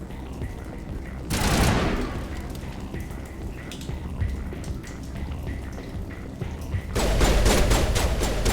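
Bursts of automatic gunfire in the Mass Effect video game, a loud rattling volley early on and a denser rapid barrage at the end, over a steady low rumble of battle ambience.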